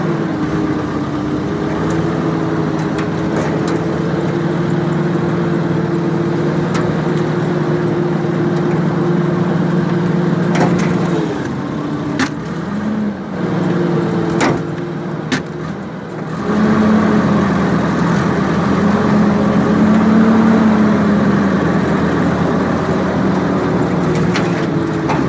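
Vintage Clark forklift engine running steadily at close range while loading scrap onto a trailer, holding a constant drone with slight shifts in pitch and a brief dip midway before picking back up.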